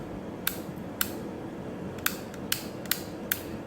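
The length dial on a Groomist PT-303 trimmer is turned, giving six crisp, close clicks at uneven intervals over a quiet background.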